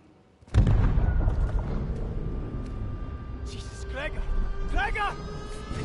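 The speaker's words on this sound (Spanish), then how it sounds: "Una explosión." A sudden heavy explosion from the video game Still Wakes the Deep, set at sea, hits loud after a quiet start, then a deep rumbling roar lingers beneath voices talking.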